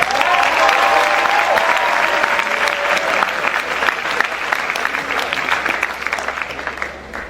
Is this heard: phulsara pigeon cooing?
no